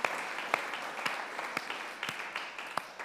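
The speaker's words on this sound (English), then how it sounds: "let's just give them one other huge round of applause" A church congregation gives a sustained round of applause at a Sunday morning service, even crackling claps with a few sharp individual slaps popping out, steady throughout.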